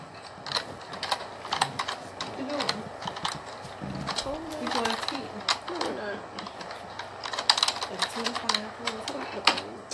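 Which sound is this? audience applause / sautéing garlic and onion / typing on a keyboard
typing on a keyboard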